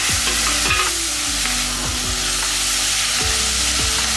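Tomatoes, onions and green chillies sautéing in a pan for sambar, with a loud, continuous close sizzle and repeated descending scraping strokes of the spatula throughout, no talking.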